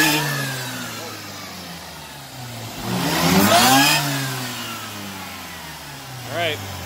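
Supercharged Mazda RX8 with methanol injection, heard up close as it idles, then revs climb to a loud peak and fall back, followed by a short blip near the end.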